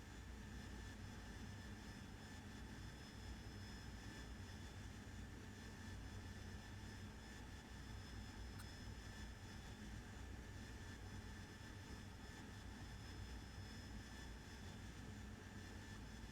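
Harrier jet rolling down a short runway at night, a steady, loud, unbroken engine roar with a constant whine that holds throughout without any talk.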